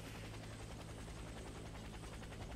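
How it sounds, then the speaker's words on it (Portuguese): A helicopter lands in the video game Warface, its rotor beating in a loud, steady, continuous chop with no break. "Olha onde o cara vai pousar a porra desse helicóptero."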